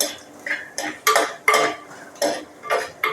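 Coconut pieces frying in a pan for beef, stirred with a metal utensil: repeated clanking scrapes against the pan about every half second, close and moderately loud.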